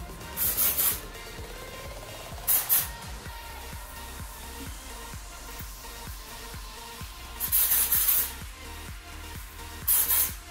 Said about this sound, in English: I'm not gonna spray the ends of my hair